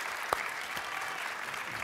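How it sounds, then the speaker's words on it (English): An audience at a panel discussion on energy security applauds with a steady, soft patter of clapping heard from a distance, with one sharper clap standing out near the start. "That's a spontaneous applause for you, Arun, and get you down the road."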